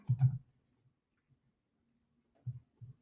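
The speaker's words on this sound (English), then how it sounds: "Then click Create a Sign-up." A computer mouse clicks on a web page button: one soft double click at the start, then a few quick, quiet clicks near the end, close and isolated against near silence.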